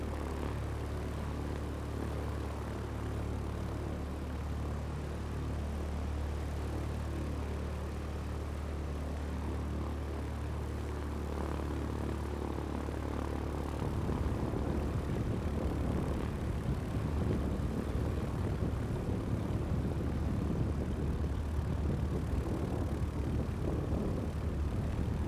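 Aircraft engine in Flight Simulator 2024 holds a steady droning hum while taxiing, rising into a rougher, louder roar partway through, with no talking.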